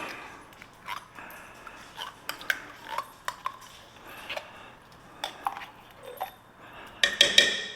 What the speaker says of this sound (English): Yep, I should be using a spatula, but I grabbed a spoon.